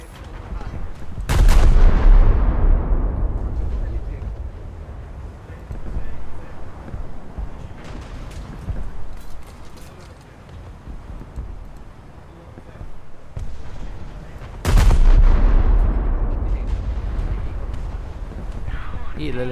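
Naval guns of a light cruiser fire in the War Thunder game in two heavy salvos, each a loud booming blast with a long rolling decay, and lighter thuds and background noise in between.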